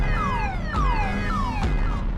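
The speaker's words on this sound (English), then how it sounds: "The little dog suddenly bumped into the car and triggered the alarm." Car alarm set off when a small dog bumps into the car, repeating falling electronic wails in a steady cycle, loud and nearby, with no talk.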